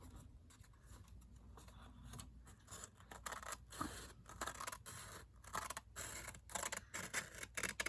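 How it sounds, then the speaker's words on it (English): Small scissors snip repeatedly up close, quiet crisp cuts in an irregular rhythm with faint rustling between them. "Love these scissors."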